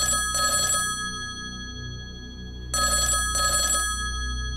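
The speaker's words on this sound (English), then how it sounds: "the house phone started ringing." A house telephone rings in the evening: two bursts of a bright electronic ring, each with a double pulse and separated by a pause, clear and fairly near over a low hum.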